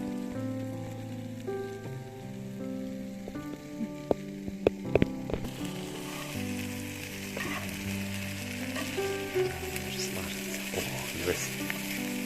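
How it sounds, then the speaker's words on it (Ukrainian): Steady sizzling of onions frying in a pan over an open fire, with a few clinks and stirring sounds partway through. "Зараз обсмажуємо цибульку і потім додаємо до грибочків."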